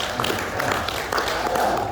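An audience applauds during a Hindu religious talk, with dense, steady clapping that fills the whole two seconds at moderate loudness.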